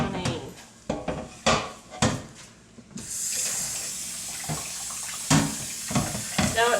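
Water runs from a tap into a kitchen sink while a canner is washed, starting with clanks and knocks of metal, then a steady close rush of water with occasional bumps and scrapes.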